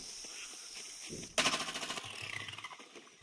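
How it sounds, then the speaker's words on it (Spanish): Machine gun in Plants vs. Zombies Garden Warfare 2 opening up after a quiet moment, a loud rapid burst of shots that fades into a softer rattling stream. "La ametralladora."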